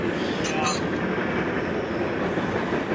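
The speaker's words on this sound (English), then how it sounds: "Between the wind and the train." A steady, loud rumbling roar of a train passing close by a campsite, mixed with gusty wind noise, with a brief squeal early on.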